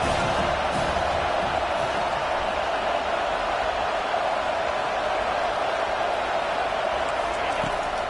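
Football stadium crowd roaring for the defense on a third down, a dense, continuous wash of cheering and yelling that stays loud and steady throughout.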